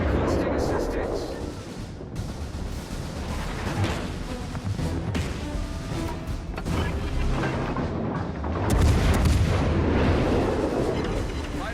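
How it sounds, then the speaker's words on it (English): Naval gunfire booms and rumbles through a World of Warships ranked battle at tier 6, with heavy blasts and continuous battle noise throughout, and a voice speaks over the action. "Concentrate fire on the target."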